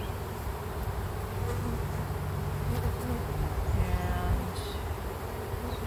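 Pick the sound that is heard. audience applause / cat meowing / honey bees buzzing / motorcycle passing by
honey bees buzzing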